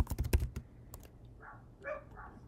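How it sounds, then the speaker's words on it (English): Quick, close bursts of typing on a computer keyboard, a rapid cluster of clicks followed by a few scattered keystrokes, with faint background noise and no talking. "let's let my typing catch up with my brain"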